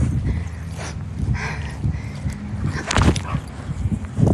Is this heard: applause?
no